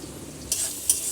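Onions frying in a pan to a reddish brown, a quiet soft sizzle with two brief bright scrapes of stirring.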